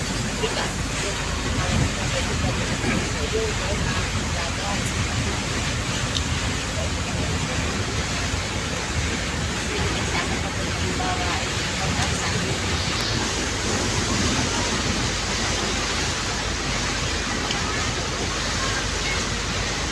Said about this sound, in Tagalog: Grabing ulan, lakas.